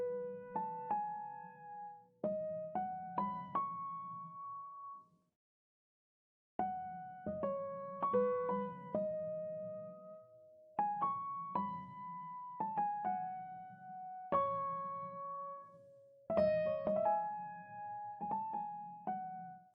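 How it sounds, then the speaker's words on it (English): A top-line melody played by hand on a MIDI keyboard with a cassette-style effect, short phrases of bright plucked notes over a soft low hum, grouped with brief pauses and one longer gap, quiet and without voices. "the next thing I added in was this little top line melody"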